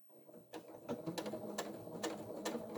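A sewing machine top stitches a fabric sling bag, running close by in a steady rapid needle patter with a few short pauses and restarts, no talking.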